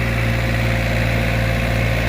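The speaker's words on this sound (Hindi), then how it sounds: "इतनी गहराई लेकर रूटावेटर चल रहा है, आप सभी देख सकते हैं" A 50 hp tractor runs a 13-foot rotavator through farm soil, a loud continuous engine drone with a steady low hum throughout and no talking.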